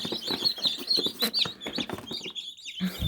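Newly hatched chicks peep rapidly and continuously up close, a busy chorus of high, thin cheeps with brief pauses.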